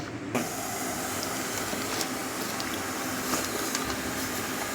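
Water heats in a pot on the stove for jackfruit kollukattai, giving a steady, dense hiss and bubbling, close and continuous, with a few faint clicks.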